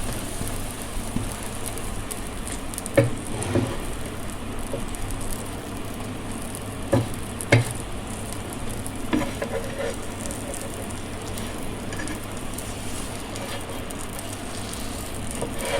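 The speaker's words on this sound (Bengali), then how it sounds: "এবার এটাকে ভালো করে এপিট ওপিট করে ভেজে নিচ্ছি।" A sandwich fries in a pan for Mumbai-style street food, giving a steady soft sizzle and crackle with occasional sharper pops, continuous and fairly quiet throughout.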